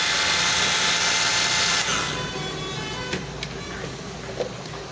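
A rewound juicer motor runs steadily with a loud, broad whir that drops in level after about two seconds, then continues evenly with a few faint ticks.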